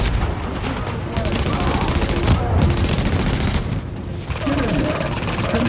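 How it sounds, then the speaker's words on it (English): Rapid gunfire from the video game Tom Clancy's The Division, dense bursts of shots running almost continuously through the clip with a brief lull, loud and close with a player's voice talking over it. "Can you please stop shooting me?"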